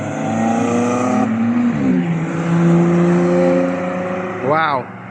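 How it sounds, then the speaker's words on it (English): A Lotus Exige race car screams past on the Cadwell Park circuit, a loud high-revving engine note that drops in pitch, followed by another car's rising rev near the end. "So I definitely think the best sounding cars today are going to be the exiges."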